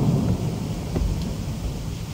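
A low rumble of thunder rolls beneath steady rain and wind during a storm under a causeway bridge by the water, distant and sustained rather than a sharp crack.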